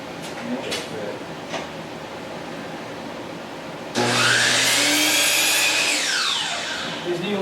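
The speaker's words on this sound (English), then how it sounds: "I'll just sand that down a little bit" A power sander working an old scrap of pine for a kitchen cabinet face frame kicks in abruptly partway through with a loud, steady whir and grinding rasp, after a stretch of quieter shop noise.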